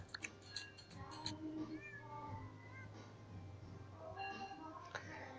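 Cats meow repeatedly in a cat simulator video game, with several drawn-out, wavering calls and a few clicks, quiet overall and under soft game ambience.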